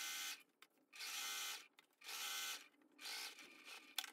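A sewing machine stitches fabric in four distinct bursts of steady whirring, each about half a second long, with short quiet pauses between them. It sounds fairly near, and no one speaks.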